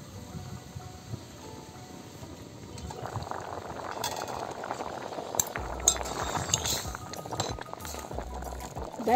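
Dal and tomatoes boil in a pot for tomato rasam, making a steady bubbling simmer that grows slightly busier over time, with occasional light clinks of utensils and a low hum in the background.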